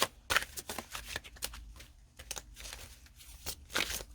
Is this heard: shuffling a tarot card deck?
yes